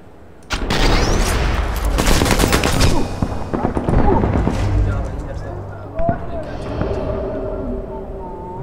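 Heavy gunfire in Sniper Elite 4, a loud sharp crack followed by a rapid burst of shots and booming echoes, then scattered fainter reports as a voice talks over it.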